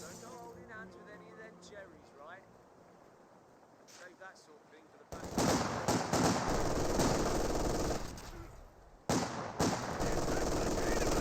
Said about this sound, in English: And MG42 does find some good suppression there on top of the raid section.